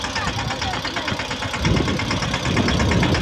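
A tractor engine runs steadily during field sowing, a continuous low rumbling drone that grows slightly louder and rougher in the second half.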